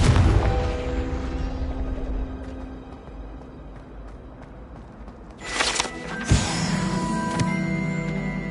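Confringo blasting spell in Hogwarts Legacy on PS5, a whooshing crackle erupting into a sharp bang a few seconds in, after a fading earlier blast, amid game ambience.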